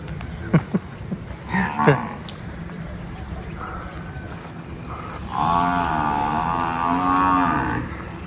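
A water buffalo in Jhang, Pakistan gives a long, low moo near the microphone after a few clatters and faint background voices.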